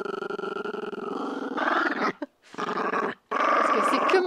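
A dog growls low and rumbling up close, in continuous sustained bursts broken by two brief pauses.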